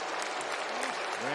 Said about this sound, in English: the Thunderdome piping and clapping to rally the baby face is really,